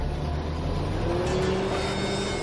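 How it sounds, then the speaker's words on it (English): A truck engine pulls away from a motel in Kansas before dawn, a steady low drone that gains a rising tone partway through, heard alone with no talk. "A truck pulls out of a motel in Kansas."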